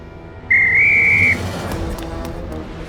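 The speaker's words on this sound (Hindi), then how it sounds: "सीटी बजा के।" A referee's whistle blown to start a relay race in an animated comedy series: one sharp, sustained shrill blast lasting under a second, loud and clear over quiet background noise, with nothing but faint ambience after it.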